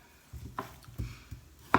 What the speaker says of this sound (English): Oh, cut off the dead bit on the end.